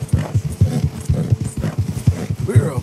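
Horse hooves clip-clop in a steady, close rhythm on a Red Dead Redemption 2 ride, with a voice talking over the hoofbeats throughout.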